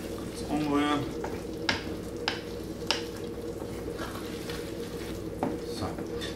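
Meatballs in cucumber cream sauce being stirred in a pan, soft scraping and clinks of a spoon against the pan over a low simmering sizzle, close, with a voice speaking briefly near the start.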